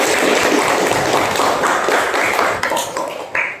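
Children in a classroom clap together after a correct answer in an Islamic quiz, loud dense patter that thins and trails off near the end.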